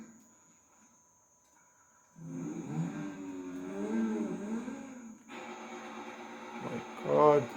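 A powerful black car's engine revs in Grand Theft Auto V, a steady droning rise that swells and holds, cuts briefly, then climbs again loud and close.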